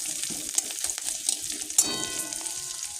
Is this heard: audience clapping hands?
no